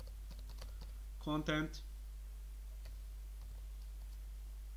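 A computer keyboard gives scattered soft key clicks while someone types code, quiet under a steady low hum, with a voice speaking briefly in the middle.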